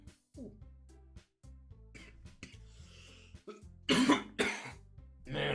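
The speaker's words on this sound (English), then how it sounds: "Man, I got a bit of a cough." A female game character in a visual novel coughs in several short, rough bursts, close and clear, separated by quiet pauses and brief throat-clearing sounds.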